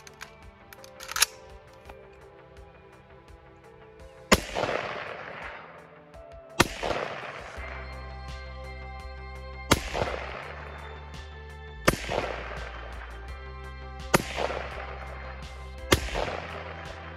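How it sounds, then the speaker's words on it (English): Seven loud, evenly spaced gunshots come from a backpack gun with a 7-inch barrel fired at targets 200 yards away outdoors, each sharp crack followed by a ringing echo that fades before the next. "I'll just shoot two on the left target,"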